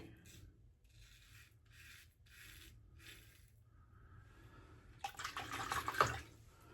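Running water rinses shaving soap off a face or razor, a faint splashing and rubbing under a quiet background before the water swells louder and busier near the end.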